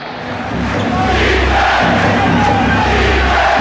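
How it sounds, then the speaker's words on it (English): A sellout crowd at a Madison Square Garden basketball game fills the arena with a loud, sustained roar that swells in over the first half second and then holds steady. "A sellout crowd is stunned at the Garden."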